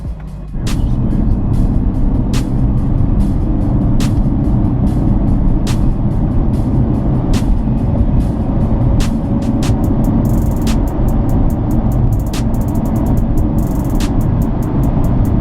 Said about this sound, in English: it even burps in the downshifts